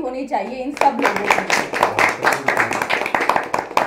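An audience at a song launch event claps in a burst of hand applause that swells and carries on steadily, while someone speaks over the start of it.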